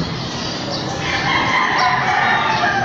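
Several roosters crowing at once, loud and overlapping, their drawn-out calls filling the whole stretch with no talking.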